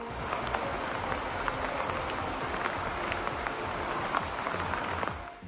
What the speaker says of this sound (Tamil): புதுக்கோட்டை மாவட்டம் பொன்னமராவதியில் நேற்றிரவு சூறைக்காற்றுடன் பலத்த மழை பெய்தது.